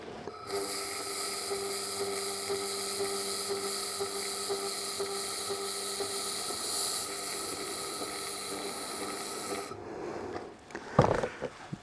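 An Xlaserlab X1pro laser welder welding a corner joint in a garage, giving a steady high hiss and whine that holds for about ten seconds, then cuts off and is followed by a few close clatters.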